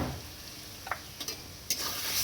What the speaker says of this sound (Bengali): ভালো করে এবার কষিয়ে নেওয়ার পালা